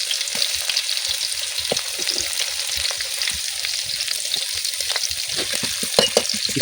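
Chopped onions frying in oil with bay leaf and cinnamon on a wood-fired clay stove, a continuous close hiss of sizzling with small crackles and pops throughout.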